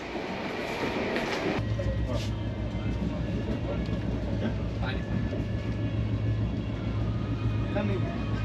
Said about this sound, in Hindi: हल्दीराम का मिल्क लेने गए थे, तब तक ट्रेन चल पड़ी।